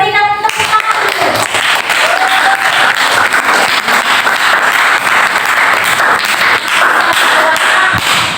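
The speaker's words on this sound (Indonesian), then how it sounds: "kita berikan tepuk tangan dulu." A crowd breaks into loud, sustained applause, dense clapping filling the room for several seconds.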